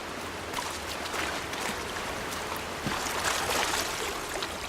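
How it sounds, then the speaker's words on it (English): River water in the game Horizon Zero Dawn rushes and splashes in a steady broadband wash with no break, moderately close and heard alone with no voices. "I'm walking along the river close to the river sound emitter"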